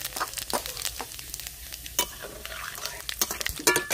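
Whole garam masala and cumin seeds crackle and sizzle in hot oil for a Bengali katla fish kalia, with close, irregular pops and stirring clinks of a utensil against the pan.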